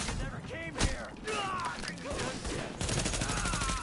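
Shotgun and gunfire blasts in Tom Clancy's The Division, loud repeated bursts over game sounds and overlapping voices talking throughout.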